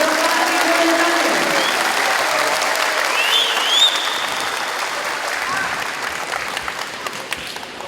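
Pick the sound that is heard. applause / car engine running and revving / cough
applause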